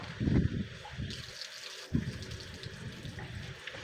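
Water gushes and sputters out in short bursts from a water filter housing's pressure-release valve, then trickles steadily, close by and fairly quiet, with no talking.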